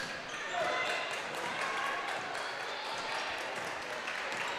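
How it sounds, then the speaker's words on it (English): Basketball fans in a high school girls' game gym clap their hands and make noise in a dense, steady wash, with a commentator talking over it. "Now Neenah's clapping their hands, making noise."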